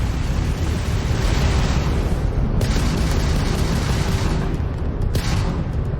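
Heavy, continuous booming weapons fire from a Crimson Fleet ship during space combat in Starfield, a dense roaring barrage with repeated blasts that fills the whole stretch loudly.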